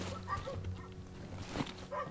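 A dog barks in the survival horror game Darkwood, a few faint, scattered barks and whimpers set against low, murky game ambience with no speech over them.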